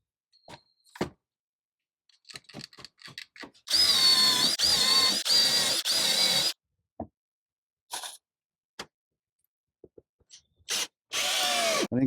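A power drill drives screws into wooden barstool parts in loud bursts of a few seconds each, with clicks, taps and handling noises in the quiet gaps between runs.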